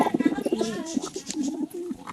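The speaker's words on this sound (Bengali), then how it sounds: "দেখেন কত চঞ্চল আমার কবুতরগুলো" Pigeons in a pigeon loft coo softly and repeatedly, a run of low, rolling calls with a few faint chirps and bird noises around them.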